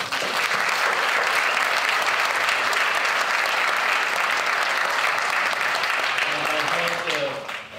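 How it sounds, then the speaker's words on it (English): Audience at an eldercare speaker series applauding the event staff; loud, sustained clapping from a full room that stays level for several seconds and fades at the end as a voice begins. "So a little applause, please"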